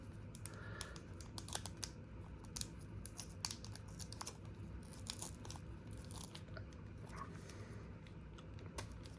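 Crinkly plastic wrapper of a 1990 Donruss baseball card pack being slowly peeled open, close and fairly quiet, with steady rustling and scattered sharp crackles throughout and no talking.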